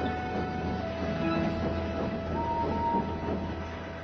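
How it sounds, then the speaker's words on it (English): An animated steam engine rolls into a junction at night with a steady, moderate rumble and faint rhythmic clatter of wheels on track, broken by brief whistle-like tones. "At last, Henry arrived."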